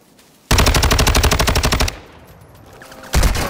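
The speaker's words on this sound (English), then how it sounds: "Taking effective fire!" A rapid automatic-weapon burst rattles loud and close in Call of Duty: Modern Warfare II, lasting about a second and a half. After a short lull a second burst cuts in.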